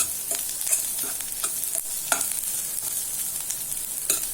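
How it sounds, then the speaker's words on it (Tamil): Radish thokku sautéing in a pan, with a steady sizzle and repeated scraping stirs of a spoon, close and fairly loud, with no talking. "நல்லா வதங்கணும் அந்த முள்ளங்கி"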